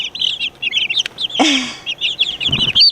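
Chickens cluck and chirp close by in a steady chatter of short bursts, with a louder squawking call midway and a turkey among the flock on a hobby farm.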